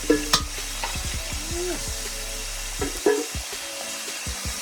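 Chicken wings deep-frying in hot oil, a steady sizzling bubble broken by a few sharp clinks and scrapes of a utensil in the pot, close and moderately loud with no voices.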